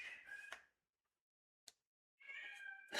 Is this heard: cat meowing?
yes